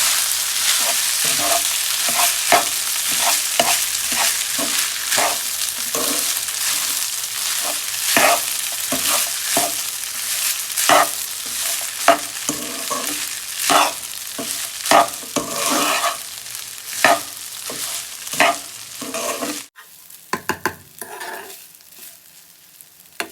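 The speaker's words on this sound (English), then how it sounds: "Stirring rice," Rice with previously roasted cashews is stirred in a hot pan for lemon rice, a spatula scraping in steady repeated strokes over a constant close sizzle, with a brief pause near the end.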